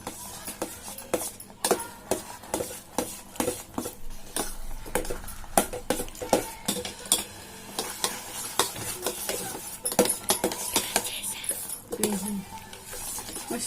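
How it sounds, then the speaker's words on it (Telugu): Rava dough mixed with grated coconut being stirred for sweet undrallu, with dense, rapid scraping and clicking of a utensil against a vessel, close and continuous throughout, with no talking. "కొబ్బరి ఇవన్నీ యాడ్ చేసుకుని మంచిగా కలుపుకోవాలి"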